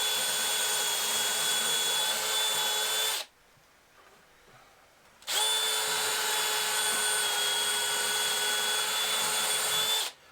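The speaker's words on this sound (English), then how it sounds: "So I've drilled my holes" A power drill bores pilot holes into planter wood in two loud, steady bursts, about three seconds each, split by a short quiet pause.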